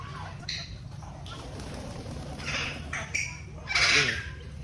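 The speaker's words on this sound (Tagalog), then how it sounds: "Iba't ibang uri ng ibon ay narito." Assorted birds squawking and calling in a farm zoo, several short harsh cries rising over a murmuring background, with people talking nearby.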